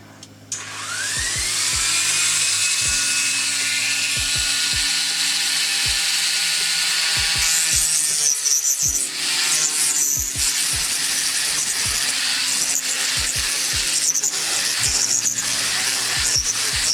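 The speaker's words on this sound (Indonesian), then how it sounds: "sekarang kita lanjut kita bor aja ya" A power drill bores into an Aoshima plastic model kit wheel, a high whining spin that rises at start-up and runs loud and close, broken by repeated clicking taps and grinding as the bit bites the plastic.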